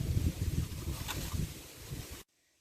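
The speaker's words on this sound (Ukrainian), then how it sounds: "Вітер наче трохи втихає, надуло листя, сьогодні добряче" Blustery wind rumbles and buffets close by in a village, blowing leaves about, a dense roaring rush that cuts off abruptly near the end.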